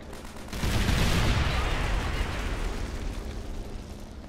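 A tank in Call of Duty: World at War fires on full auto, setting off a dense, loud roar of explosive blasts that swells after a brief pause and keeps rumbling to the end.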